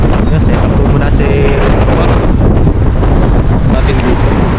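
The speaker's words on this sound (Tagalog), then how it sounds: "Lakas po kasi ang hangin." Strong wind buffets the microphone in a loud, constant roar by the sea on a cold day in Taiwan, with faint voices partly buried under the rumble.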